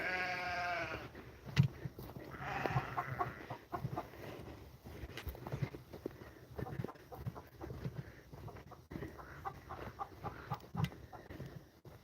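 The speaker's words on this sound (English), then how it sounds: "We've got the lamb flock." Sheep in a lamb flock bleat outdoors, starting with a clear drawn-out bleat and followed by scattered farmyard calls and rustling throughout.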